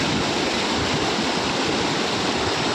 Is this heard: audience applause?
no